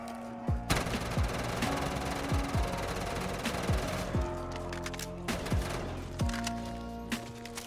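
Gunfire in Black Ops 3 custom zombies with MW2019 weapons, including the 725: rapid, repeated shots in bursts over a constant mechanical game drone, loud and close, with no talking.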